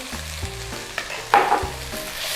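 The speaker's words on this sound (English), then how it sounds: "Give that a stir in there" Beef stroganoff sizzles in a pan as Dijon mustard is stirred in, with a steady frying hiss broken by spoon scrapes and a louder clatter midway.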